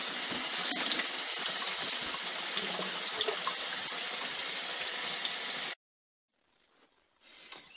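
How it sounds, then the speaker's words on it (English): Hot water gushes steadily from a tap as a mosaic-tiled mirror is being wiped down, a loud continuous hiss that stops abruptly near the end, leaving near silence with faint trickles. "Let me put hot water."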